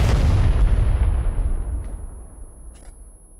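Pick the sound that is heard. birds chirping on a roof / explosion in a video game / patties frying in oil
explosion in a video game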